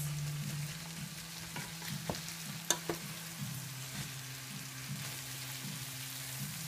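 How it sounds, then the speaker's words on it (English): Spiced rice frying in a pan hisses softly and steadily while a spatula breaks up the mounds, giving a few sharp scrapes and knocks over a low background hum. "So again, with your spatula, just break up those mounds of rice."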